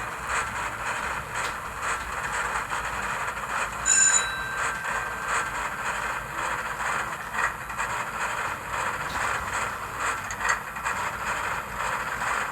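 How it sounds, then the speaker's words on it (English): An old-style Märklin Zugspitzbahn model locomotive running, its small motor giving a steady whir under light rattling and clicks, with a brief bell-like ding partway through and no talk. "the whir of the small motor inside and the very basic operational sounds of the locomotive"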